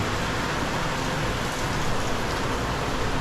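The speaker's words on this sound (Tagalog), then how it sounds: "tuloy-tuloy na naman ang pagbuhos ng ulan" Heavy rain pours steadily through a week of bad weather over a vegetable garden, a dense, unbroken roar of drops on surfaces that stays loud and even throughout with no voices.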